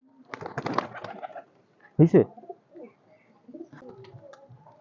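High-flyer pigeons coo softly in short bursts, with a voice heard briefly near the start.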